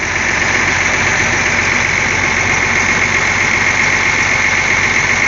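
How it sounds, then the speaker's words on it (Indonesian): Bus engine idling, a steady droning rumble with a constant vibrating hum, close and loud, unchanging throughout with no voices. "Nah ini mesinnya ya"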